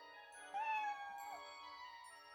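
A cat meows in the video game Odin Sphere: Leifthrasir, one drawn-out, rising then falling cry heard clearly over a soft, steady game music bed.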